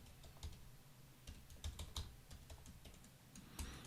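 Java code typed on a computer keyboard, heard as soft, close clicks in an irregular, steady run of keystrokes with no talking.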